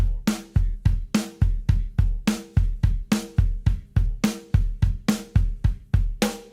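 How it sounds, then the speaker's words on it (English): A drum kit plays a repeating seven-note grouping pattern of punchy kick and snare hits with cymbal wash, a steady, loud, closely recorded groove with no voices. "7-note grouping, which sounds like this."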